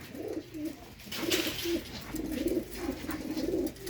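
Pigeons coo softly in a repeated, throaty rhythm. The calls come one after another at close range, with no talk.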